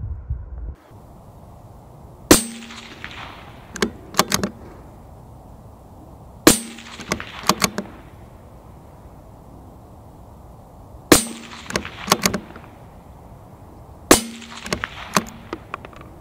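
Four sharp rifle shots fired at a 175-metre target, spaced several seconds apart, each a loud crack followed by a short echoing tail, with quiet outdoor background between them.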